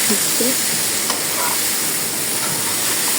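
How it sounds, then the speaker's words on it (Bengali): Fish heads frying in oil in a home kitchen pan give a steady, close sizzle and hiss with faint clinks of stirring over continuous low background noise. "তো মাছের মাথাগুলো ভাজা হয়ে গেছে, দিয়ে দিলাম"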